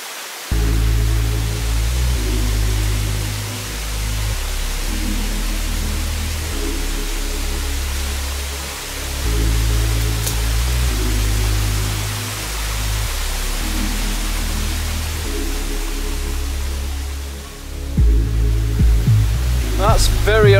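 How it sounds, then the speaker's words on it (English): A small waterfall on a little brook along a hiking trail in Herefordshire, a steady broadband rush of falling water heard up close and fairly loud, continuous for the whole stretch with no talking. "I knew there was a waterfall along the course somewhere"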